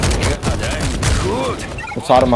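AK rifle fire in the zombie shooter World War Z, a dense, continuous fusillade of loud gunshots with other game effects and voices mixed in throughout.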